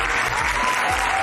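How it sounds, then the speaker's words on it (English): A studio audience breaks into loud, steady applause welcoming actor Nicholas Hoult onto a live talk show, a dense wash of clapping with faint crowd murmur throughout. "Please, a huge round of applause for Nicholas Hoult."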